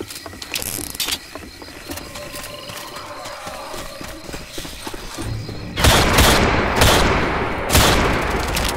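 Gunfire in the zombie shooter game Left 4 Dead 2: after several seconds of light clicking and mechanical rattles, a dense, loud run of shots bursts in, with sharp repeated cracks over a sustained roar, no voices.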